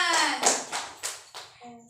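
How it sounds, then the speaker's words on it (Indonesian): A classroom of children gives a quick round of clapping, a few sharp, distinct claps in a short burst, close by, with a teacher's voice briefly heard around it. "Tepuk tangan."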